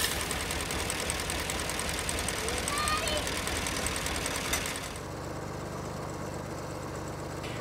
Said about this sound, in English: We're using our John Deere 2240 tractor with an auger to dig 2-foot deep holes for our cedar posts.